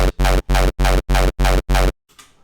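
Seven punchy frenchcore kicks built in Serum without hyper dimension thump in an even rapid rhythm, each short and dry, followed by a faint fading tail.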